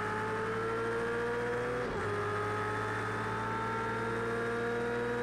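Race car engines in the Project Cars 2 video game drone and whine steadily at the race start, with a momentary dip and shift around two seconds before the revving continues loud and sustained.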